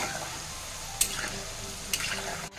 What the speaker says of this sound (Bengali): এবার আমি উল্টিয়ে পাল্টিয়ে ভালো করে ভেজে নেব।